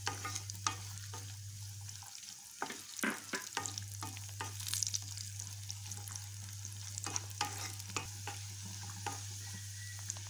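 About fifteen to twenty cashews fry in hot ghee for oats kesari, a steady soft sizzle with scattered clicks and scrapes of stirring over a constant low hum.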